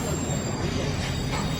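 A Swiss rolling-highway train carrying trucks rumbles past loudly, its wheels squealing and grinding on the rails in a continuous close roar.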